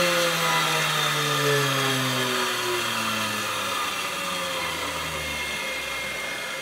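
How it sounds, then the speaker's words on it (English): A bench grinder spins down on a metal shaper pawl pin, its falling whine dropping steadily in pitch over a loud, steady broadband rush, close and without talk. "Grind the little nipples off of there."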